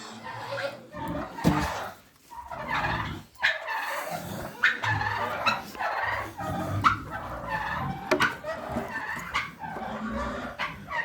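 Turkeys gobble in a dense, overlapping chorus at close range during morning feeding at a farm. Their loud, rattling bursts repeat almost continuously, with brief gaps between them.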